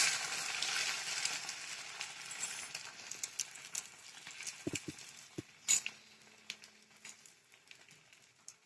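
Beaten egg fries as an omelette on a lightly oiled tawa, making a faint, even sizzle with a few soft clicks and taps near the middle.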